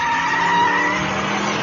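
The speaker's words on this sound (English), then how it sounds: "Suddenly, it came to a screeching halt in front of a dark alley" The Batmobile's tires screech loudly in a sustained skid as the car comes to a halt, a continuous squeal with engine rumble underneath and no voices.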